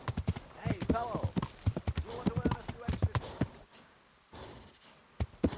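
A horse's hooves clop steadily while being ridden in the medieval game Kingdom Come: Deliverance, a regular close rhythm running under someone talking throughout.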